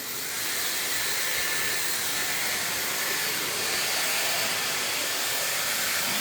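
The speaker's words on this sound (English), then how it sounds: "let me just blow all the hair off" A blow dryer blasts loose clippings off after a short layered men's clipper cut and fade, a steady, close, loud rushing hiss that runs unbroken and alone throughout.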